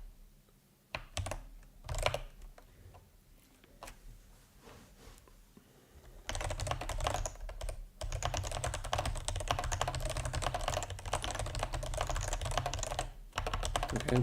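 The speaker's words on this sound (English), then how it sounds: "let's see if I still have my typing skills with me." Someone typing on a computer keyboard. A few scattered keystrokes come first in a quiet room, then dense, continuous, rapid clacking runs close and loud through the rest.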